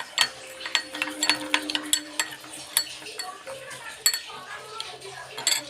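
A spoon stirs and clinks against a bowl while coconut oil is mixed, close up. The scraping and chinking are light and irregular throughout, over a faint background hum.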